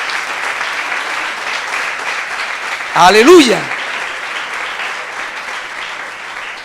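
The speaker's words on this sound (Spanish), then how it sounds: "Den un aplauso al Dios grande y maravilloso" A church congregation gives sustained applause to God during an evangelical service, steady crowd clapping throughout, with a brief loud shout of praise near the middle.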